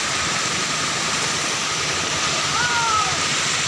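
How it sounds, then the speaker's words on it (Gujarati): Floodwater after heavy rain rushes and surges in a steady, heavy roar that fills the space continuously, with a brief faint whistling tone near the end. "ઉમરી મારે છે પાણી"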